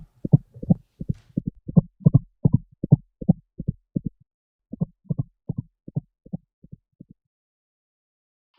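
Loud, pounding heartbeat thumping in a steady double rhythm close up, continuing for several beats, pausing briefly, then resuming before fading into silence.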